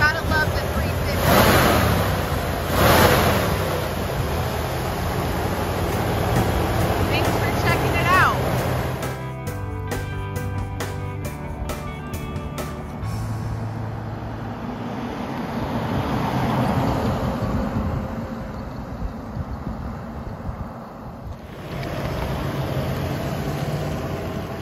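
A 1983 Ford F250 four-wheel-drive pickup with a 350 engine idles steadily outdoors, its low rumble blended into broad wind-like noise with a brief rhythmic pulsing midway, and voices occasionally over it.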